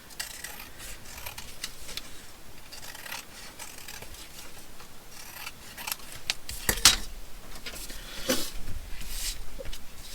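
Scissors snip through paper for a junk journal, a run of soft, close crisp cuts and rustles, busier and louder toward the end, with no talk.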